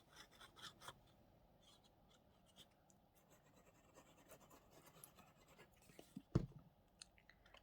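Scissors cut away the paper edges on a page of a journal made from a photo album, quiet close rasping snips and rubbing scrapes in irregular bursts, with one sharper click near the end.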